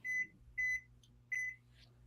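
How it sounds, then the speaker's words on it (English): A microwave oven in a 7-Eleven in Mexico beeps three times as a burrito finishes heating, each beep a clear steady tone evenly spaced, with a faint low hum underneath. "I said beep beep beep. Your burrito's done."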